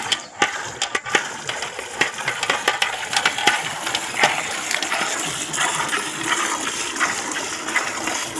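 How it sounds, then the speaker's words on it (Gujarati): Milk squirting from a buffalo being hand-milked into a metal pail in steady rhythmic spurts, with splashy liquid noise and occasional clanks, close by with no talking. "ગેસ હવે અત્યારે ભેંસે દોવા બેઠો છીએ હવે."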